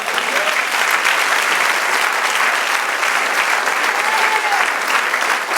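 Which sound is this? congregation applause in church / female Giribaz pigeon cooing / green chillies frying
congregation applause in church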